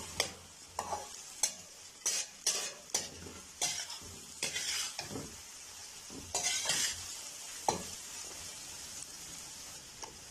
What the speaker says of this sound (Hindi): मटर के बाद हम गाजर डाल देंगे। इन दोनों चीज़ों को अच्छी तरह भूनेंगे।